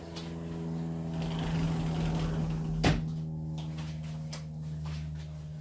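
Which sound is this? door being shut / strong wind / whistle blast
door being shut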